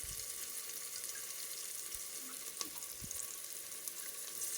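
Onions and green chili sauté in a pan for a vegetable dish, a steady, faint sizzling hiss that runs throughout with a few soft stirring knocks and no talking.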